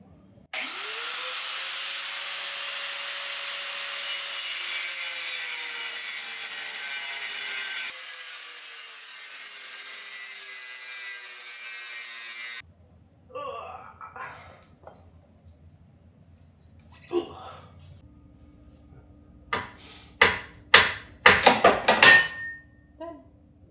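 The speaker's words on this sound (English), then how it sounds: "So, just going to use a grinder and a cutoff wheel." Angle grinder fitted with a cutoff wheel slicing through steel bumper mount horns on a Jeep Wrangler: a loud, steady high whine for about twelve seconds, then it stops, followed by clanks and scraping handling noises.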